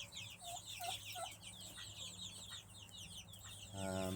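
Turkeys cluck and chirp in a short burst of repeated calls, with a steady low hum beneath and a brief louder buzz at the end.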